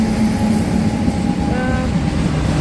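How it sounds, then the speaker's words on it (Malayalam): A train slows and brakes as it pulls into a station, giving a steady loud rumble with a faint brake squeal near the end, heard up close with no talk. "സ്റ്റോപ്പുള്ള ട്രെയിനാണ്. സ്ലോ ആക്കി തുടങ്ങി. ബ്രേക്ക് എടുത്തെടുത്ത് ലാസ്റ്റ് ഇവിടെ വരും."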